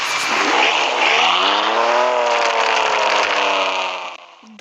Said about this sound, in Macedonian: Леле, ојде колата.